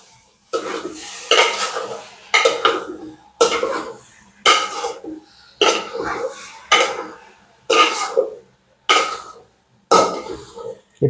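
Spice paste being mixed into meat in a pot for Bengali kosha mangsho, a regular series of scraping, clattering stirs about once a second, close and fairly loud with quiet gaps between strokes.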